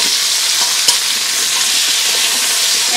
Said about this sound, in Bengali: এখন আমি গরম তেলের মধ্যে আলুর পিসগুলো দিয়ে দিচ্ছি।